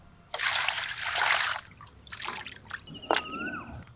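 Cut pieces of hilsa fish are rinsed by hand in water, giving close splashing and sloshing in bursts with trickling pauses between them.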